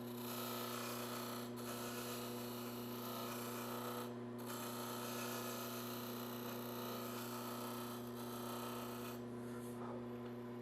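A skew chisel takes fine finishing cuts on a wooden stopper spinning on a lathe, giving a steady, quiet scraping hiss over a constant motor hum, with a few brief breaks where the blade lifts off.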